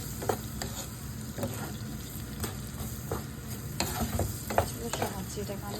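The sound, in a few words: onions added to hot frying oil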